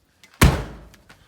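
A helicopter's compartment door shuts with a single heavy thunk as it latches, close and loud, followed by a short fading rattle and a couple of faint clicks.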